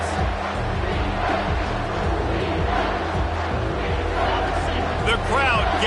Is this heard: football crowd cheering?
yes